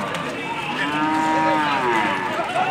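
An angry bull at a cattle fair in Cachoeirinha, Pernambuco gives one long, loud, drawn-out moo close by, rising and falling over a few seconds against faint background crowd noise.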